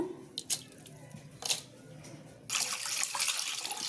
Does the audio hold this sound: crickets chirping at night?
no